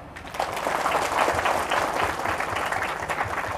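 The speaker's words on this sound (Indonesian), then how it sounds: "Tepuk tangan Pak." Audience applause at a pesantren thanksgiving and graduation ceremony, a steady, dense wash of many hands clapping that holds loud and even for several seconds.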